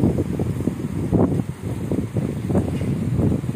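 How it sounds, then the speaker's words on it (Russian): Gusty warm wind at a Punta Cana hotel buffets the microphone in uneven rumbling surges, with a steady hiss underneath and no voices. "Ветер сегодня, но теплый."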